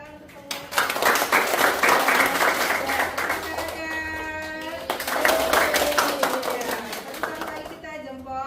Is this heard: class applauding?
yes